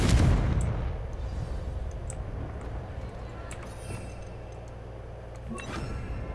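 A Confringo fire spell bursts in Hogwarts Legacy with a loud blast at the start, then a long rumbling decay and steady low drone, with faint crackles and a small second impact near the end.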